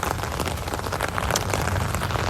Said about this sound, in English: you can hear the rain hitting the umbrella